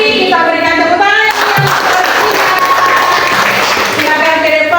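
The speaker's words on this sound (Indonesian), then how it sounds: "Kita berikan tepuk tangan" Students in a junior high classroom clapping for a group about to present, a loud, brief burst of applause following a sung or chanted voice, with chatter mixed in.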